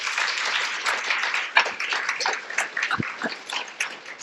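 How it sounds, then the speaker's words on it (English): A chamber of commerce audience applauds a panel, steady dense clapping from many hands in a room, continuing for several seconds. "another round of applause for our fantastic panel"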